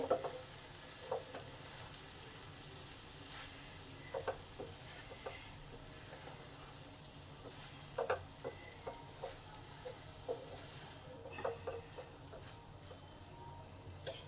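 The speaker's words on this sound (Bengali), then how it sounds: "পোস্ত আর তিল বাটাটা দিয়ে দিলাম এবার ভালো করে কষে নেবো সব একসঙ্গে" Okra stir-fried with poppy seed and white sesame paste, a soft continuous sizzle with occasional light scrapes and ticks of a spatula against the pan, fairly quiet and close, no talk.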